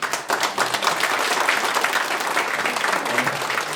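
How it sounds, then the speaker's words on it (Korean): Applause from a gathered crowd at a Korean election campaign office opening as guests are introduced, brisk dense clapping holding steady at close range. "한 분 한 분 소개할 때마다 큰 박수로 맞아주시기 바랍니다"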